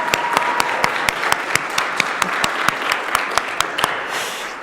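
An audience cheers and applauds wives and mothers at a joyful protest rally, with dense sustained clapping and crowd noise and a few sharp claps standing out, loud and close throughout.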